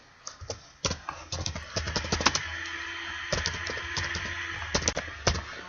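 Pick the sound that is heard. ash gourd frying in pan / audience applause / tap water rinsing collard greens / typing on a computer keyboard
typing on a computer keyboard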